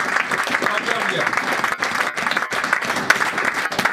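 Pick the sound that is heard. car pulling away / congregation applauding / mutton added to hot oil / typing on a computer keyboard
congregation applauding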